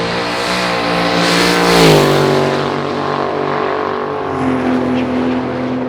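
A 5.3-litre truck V8 with boost revs hard on a dyno, a loud, harmonic-rich roar that climbs in pitch, peaks, then settles into a steady high-rpm drone with slight wavering.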